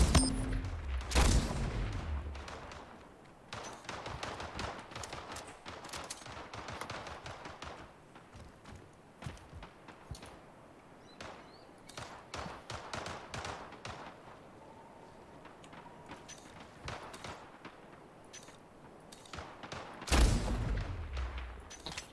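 Gunfire in the arena shooter game Splitgate: Arena Warfare, including sniper shots, heard as repeated sharp cracks and bursts of varying loudness across the whole stretch, with heavier booms near the start and end.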